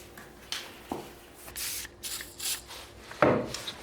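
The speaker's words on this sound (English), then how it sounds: "A little bit of WD-40. Little bit of 400 grit." Sandpaper of 400 grit, wetted with WD-40, rubbing over the metal of an old block plane: a few short, soft scraping strokes with small knocks between them, close by and quiet.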